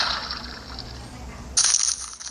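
Blocky waterfall water in the Minecraft Pocket Edition game on a phone, a steady rushing splash that swells louder and brighter partway through, with faint background hiss and no talking.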